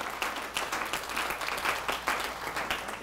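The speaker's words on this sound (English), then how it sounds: "Let's give him a round of applause, right, Mr. Ricky Wynn?" An audience at a business talk applauds for a silver executive being recognised, a quiet, fairly distant patter of clapping that rises and falls briefly.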